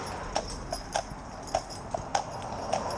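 Steady clip-clop of a young Shire horse's hooves while being driven, a regular walking beat of around eight crisp strikes over a faint background hiss.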